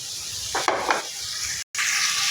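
Fish going into a pan of spice masala with plenty of chili powder, a continuous bright sizzle with a couple of sharper hissing bursts and a brief cut, close and fairly loud, no voices.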